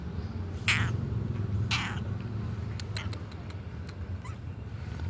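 A cat in Kebumen, Indonesia meows twice in short, close calls against a steady low hum, with faint background noises.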